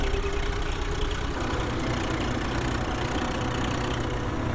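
A Swaraj 855 tractor engine in Farming Simulator 19 runs steadily at idle, a loud, even low rumble that carries on without a break and without talk.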